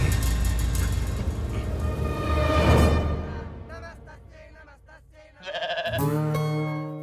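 Goat bleating in a South Indian comedy film, a loud drawn-out bleat that rises and trails off, followed after a pause by another strong bleat.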